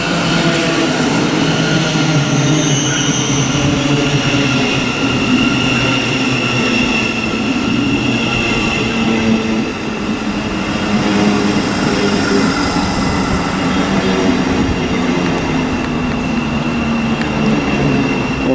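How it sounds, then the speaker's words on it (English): A slightly delayed Thameslink Class 700 unit, 700 148, on a Horsham to Peterborough service, rumbles steadily and loudly into Stevenage station on the East Coast Main Line, its motor whine and wheel noise sustained close by throughout. "coming in now is a slightly delayed 1114 Thameslink service from Horsham to Peterborough, which is 700 148."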